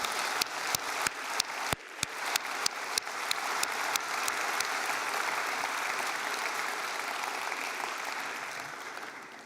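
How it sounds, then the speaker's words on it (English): Sustained applause from a large graduation ceremony audience for the Faculty of Engineering, steady dense clapping lasting the whole stretch with a few sharp nearby claps standing out early, gradually thinning toward the end. "Big round of applause for everyone."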